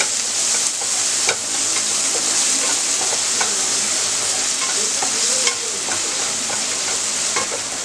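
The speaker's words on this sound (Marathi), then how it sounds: "1 कांदा बारीक चिरलेला, थोडंसं मीठ. कांदा चांगला ब्राऊन होईपर्यंत परतून घेऊया." Finely chopped onion with a little salt stir-fried in a pan until brown, giving a steady close sizzle with scraping spatula strokes throughout, no talking.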